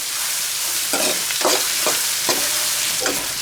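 Sichuan peppercorns, dried chilies and garlic leaves stir-fried in a wok over low heat: a steady, close sizzle with rhythmic scraping strokes of the spatula about every half second.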